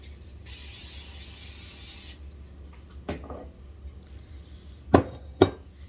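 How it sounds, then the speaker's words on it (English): A spray bottle misting bread dough before baking: a steady hiss of about a second and a half, then a few sharper quick spritzes later, close and moderately quiet. "I'm going to go ahead and spray this down."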